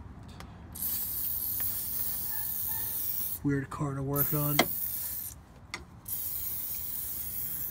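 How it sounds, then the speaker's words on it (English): AMSOIL heavy duty degreaser sprayed onto a car engine near the transmission, a steady close hiss running through most of the stretch, briefly broken by gaps, with someone talking in the middle. "spraying it where I can spray it"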